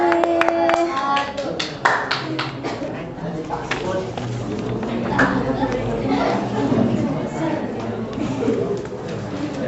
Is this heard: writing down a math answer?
no